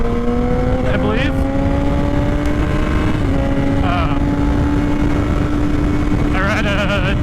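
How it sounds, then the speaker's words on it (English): A 2016 Yamaha R6 motorcycle is being ridden, its engine holding a steady drone with brief rises in pitch. A rider talks over it throughout. "I ride a 2016 Yamaha R6, and I love this bike so far."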